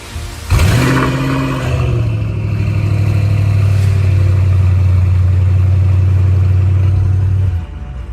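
A car engine fires up into a loud, sustained high rev that holds steady for several seconds, then abruptly cuts back down toward idle at the end.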